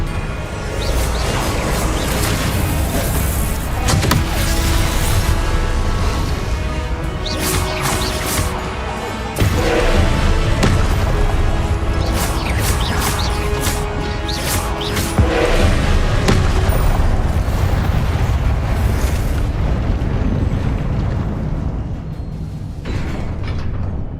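Confringo and Expelliarmus spells cast during combat in the Hogwarts Legacy video game, a dense run of crashing blasts, thuds and impacts over a constant rumbling game soundtrack, loud throughout.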